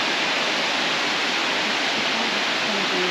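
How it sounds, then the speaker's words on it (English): Kondalilla Falls waterfall pouring steadily, a dense broadband rush of water with no break, loud and close throughout. "all the little waterfall parts are working"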